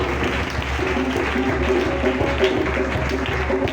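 A church congregation applauding and acclaiming the Lord Jesus during a worship gathering, steady crowd clapping with voices mixed in, continuous and moderately loud throughout.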